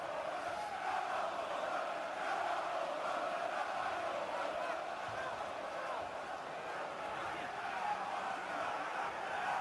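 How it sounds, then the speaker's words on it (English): Large football crowd at Bournemouth's Vitality Stadium during an FA Cup fifth-round match against Everton, a steady dense roar of thousands of voices filling the stands throughout, with no single voice standing out. "It's their biggest crowd here this season."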